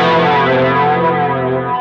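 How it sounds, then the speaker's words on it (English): An electric guitar plays through a Thorpe Effects Camoflange flanger modulation pedal, a loud, sustained chord with a swirling, sweeping, chorus-like shimmer. "This is the Camoflange by Thorpe Effects."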